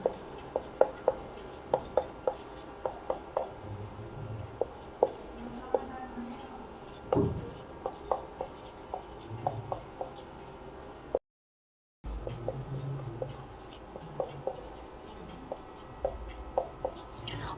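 Pen scratching on paper while maths equations are written out by hand, a steady run of light ticks and strokes, close and soft, with a brief gap partway through and low voice sounds in the background.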